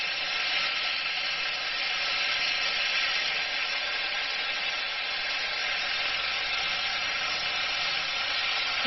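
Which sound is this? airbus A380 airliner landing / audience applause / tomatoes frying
tomatoes frying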